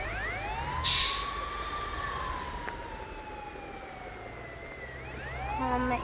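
An ambulance siren wails through traffic, its rising and falling tone sweeping clearly over a low engine rumble, with a brief burst of noise early on and a second siren pattern near the end.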